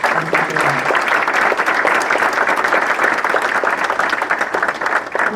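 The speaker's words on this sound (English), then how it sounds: "I really want to offer my thanks, appreciation, and a round of applause for the Elks Club for organizing this event" Applause from the audience at an Elks lodge scholarship ceremony, many hands clapping in a full, steady, loud roll that holds evenly from start to finish, with a brief murmur of voices early on.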